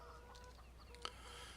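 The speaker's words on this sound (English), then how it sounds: "Oh, here's our chickens." Chickens in a pen in Farming Simulator 17, soft scattered clucks with a faint background hum, heard quietly and alone.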